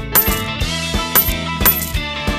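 Coins clatter into an Estrela Boca Rica toy coin game, five or six sharp metallic drops in an uneven rhythm, close and fairly loud with ringing tails and no talk.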